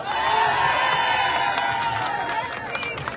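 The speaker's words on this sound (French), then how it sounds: "applaudissez-nous" Outdoor crowd at a street march for the release of Ousmane Sonko in France, cheering and applauding continuously with scattered whoops and shouts, loud and dense throughout.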